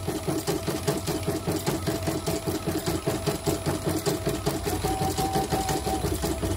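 Steady rapid mechanical clatter of a portable CNY embroidery machine's noisy, faulty presser foot, a continuous even rhythm of tapping and whirring, close and fairly loud with no talk.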